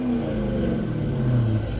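Dodge Charger Police Pursuit Pack with a 5.7 Hemi V8 rumbling steadily at close range, a deep continuous engine drone with a slight rise in pitch, no voices.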